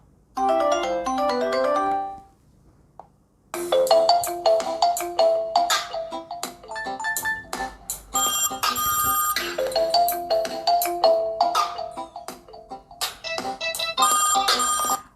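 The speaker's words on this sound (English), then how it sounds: "let's look for the ringtones" A ZTE Axon 30 Ultra 5G smartphone ringtone plays a bright, bouncy electronic melody, loud and close, starting with a short phrase, pausing briefly, then continuing in a busier arrangement.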